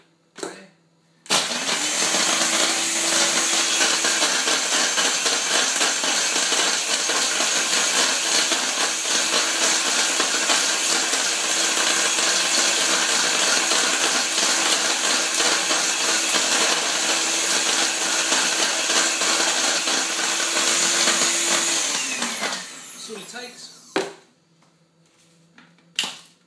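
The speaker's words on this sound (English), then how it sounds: "Make sure the lid is secure. And on with the blender." A kitchen blender whirs through groundbait ingredients, a powdered mix with a sweet, gingery smell, running at a constant loud whine for about twenty seconds, then spinning down and clicking off, with no talk during the run.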